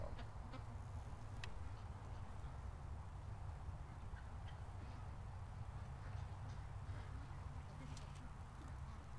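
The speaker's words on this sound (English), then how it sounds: "A lot of ducks coming in for a snack right now" Ducks flying in to feed at a marsh, their faint calls scattered under a person talking quietly, with a low steady background rumble throughout.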